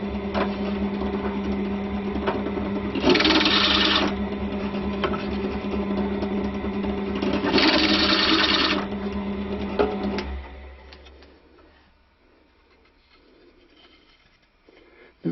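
A drill bores a hole through a wooden stick dulcimer neck, its steady motor whine rising in two louder bursts as the bit cuts, then spinning down to near silence.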